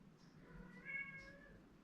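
A domestic cat meows at close range indoors, a clear drawn-out tonal call standing alone in a quiet room.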